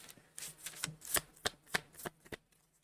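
Oracle cards being shuffled by hand: a string of crisp riffling bursts and soft slaps in an uneven rhythm, close and fairly quiet, with no talking.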